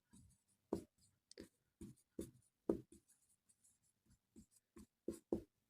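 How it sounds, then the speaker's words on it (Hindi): Handwriting during a maths class: a pen or chalk taps and scratches in short, irregular strokes, about a dozen distinct marks over a few seconds, close and fairly quiet with silence between. "यहाँ पर हम एक बात लिख देंगे"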